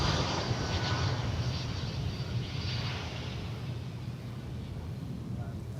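An American Airlines Boeing 737-800 jet at DFW Airport gives a loud, sustained engine roar that is strongest at the start and eases off a little as the plane passes. Someone talks faintly underneath.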